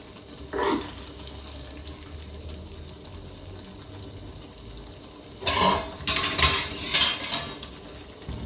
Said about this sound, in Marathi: आणि झाकण मारायचं जरा 2 मिनिटं